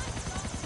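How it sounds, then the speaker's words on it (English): A helicopter in the Grand Theft Auto IV video game whirls in a steady, dense rotor drone while doing donuts near a police car, loud and close throughout the short moment. "I'm doing donuts in a helicopter"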